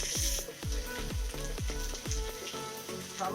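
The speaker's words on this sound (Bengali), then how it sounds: "এখন ভালো করে নাড়াচাড়া করতে থাকবো।" Shrimp masala with onion paste and chilli sizzles in a pan while a spatula stirs it in a regular rhythm of scraping strokes, close and fairly quiet, no talk.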